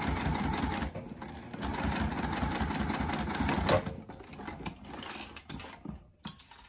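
A sewing machine top stitching cork fabric runs in a fast, steady mechanical clatter up close, then slows into short bursts and stops near the end.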